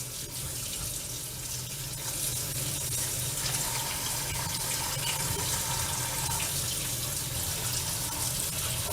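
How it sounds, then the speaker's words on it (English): Cold tap water runs steadily into a kitchen sink over potatoes, a continuous close, fairly loud rushing splash that holds unbroken for the whole stretch with no voices. "I've got to do it the old-fashioned way with just cold water."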